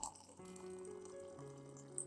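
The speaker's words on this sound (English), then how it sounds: "Pour about 500 milliliters of hot water into the cup to extract the nutrients from the onion peels." About 500 millilitres of hot water poured into a cup holding onion peels, a soft, steady trickle that rises slightly in pitch as the cup fills, quiet and close.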